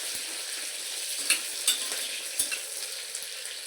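Onion and capsicum sizzle steadily in a hot pan while a spoon stirs them, giving a constant frying hiss with a few sharp scraping clicks of the utensil against the pan.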